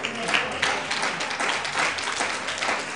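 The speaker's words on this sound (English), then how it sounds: "But y'all clapping." Congregation clapping during a sermon at an AME church, loud and dense applause with uneven swells for about three seconds.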